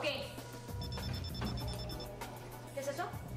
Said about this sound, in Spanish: Es la alarma para que me tome mi medicina.